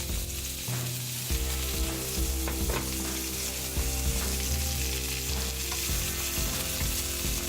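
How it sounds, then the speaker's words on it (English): Zucchini frying in oil in a pan that previously held sausage, a steady loud sizzle with intermittent stirring clatter and scraping throughout, no talking. "fry the zucchini."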